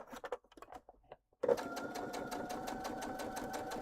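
A sewing machine stitches a straight seam in a steady, rapid, rhythmic run that starts after a few soft handling taps and a brief pause, close and clear.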